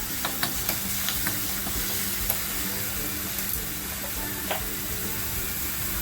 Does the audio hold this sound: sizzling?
yes